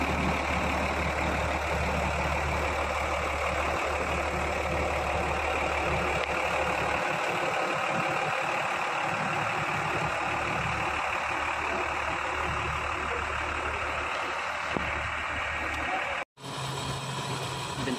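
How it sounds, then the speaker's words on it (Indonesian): A Hino RN285 bus engine idles steadily at close range, a continuous low rumble with a constant drone that holds for the whole stretch, briefly cutting out near the end before resuming. "Suara mesin Hino RN285."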